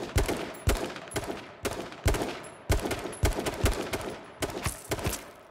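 Gunfire in a video game, roughly a dozen sharp shots in quick irregular bursts, loud and close, with no talking over them.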